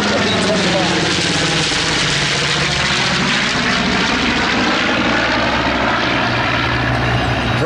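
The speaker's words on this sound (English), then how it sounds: "Here comes another look at the B-25." A B-25 warbird, a twin-engine propeller bomber, roars overhead at an air show, its loud, steady engine drone filling the whole stretch with a slight rise and fall as it passes near.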